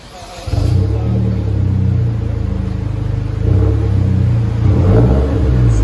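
A Hyundai Genesis Coupe 2.0L turbo with a straight-pipe exhaust revs up, giving a loud, steady low rumble that rises in pitch, with brief throttle surges near the start and end.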